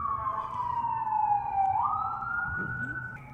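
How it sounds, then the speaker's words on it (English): A police car siren wails nearby, its tone sliding down and then rising again in a steady sweep over the low rumble of outdoor street noise. "Police car is doing something around here. I don't see them exactly, but you can hear them."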